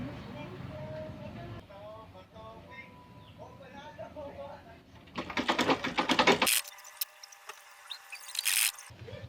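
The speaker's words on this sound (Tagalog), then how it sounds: "ating itatahi sa square ng kortitang binutas natin para sa ating aircon" Sewing machine stitching curtain fabric around a square opening cut for a window aircon unit, a fast mechanical chatter that starts after some talk and runs in loud bursts near the mic.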